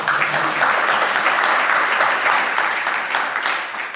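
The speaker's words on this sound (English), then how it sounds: "And that is the first and last round of applause you're going to get." Sustained audience applause at a 2018 London keynote session, a dense, steady wash of many hands clapping that holds loud throughout and tapers slightly at the end.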